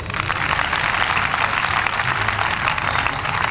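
An audience at a youth peace gathering claps continuously, a dense, loud wash of applause with no voices standing out.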